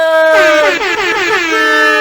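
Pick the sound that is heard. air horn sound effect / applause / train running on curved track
air horn sound effect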